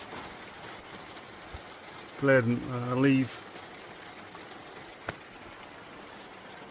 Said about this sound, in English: Look how we got that bit of rain now